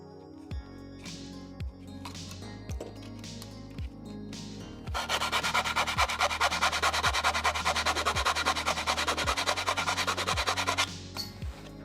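A Scout Trooper helmet's edge is trimmed, with a steady, close rasping and scraping at a quick rhythm, preceded by a few separate cutting strokes and light knocks.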